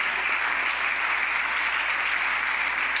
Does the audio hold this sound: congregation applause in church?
yes